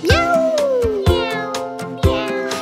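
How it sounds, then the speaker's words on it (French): A cat meows one long, gliding, falling call, clear and close, set against a bouncy children's song beat with regular thumping percussion. "Le chat dit miaou"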